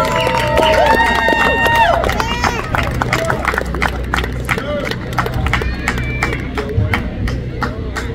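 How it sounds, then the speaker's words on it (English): An award-ceremony audience at the 2024 Fathers Festival Award applauds Brother Shane Rice: loud, fairly sparse, irregular clapping with crowd murmur and raised voices running throughout. "give your round of applause to Mr."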